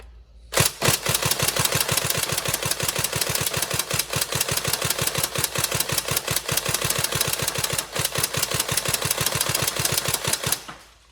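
An upgraded Tokyo Marui SCAR-L NGRS airsoft electric rifle firing one long, loud, continuous full-auto burst, a fast even rattle of shots lasting about ten seconds before it cuts off.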